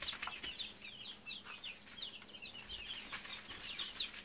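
Chicks in a brooder peep in quick, high chirps that come in repeated bursts, with soft rustling and fluttering beneath, faint and close with no talking.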